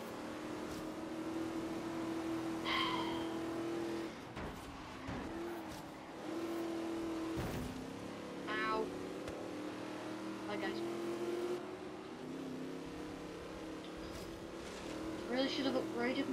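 A race car engine in Forza Horizon 3 drones and revs through rising and falling gear changes, sustained and fairly steady, with a person talking over it.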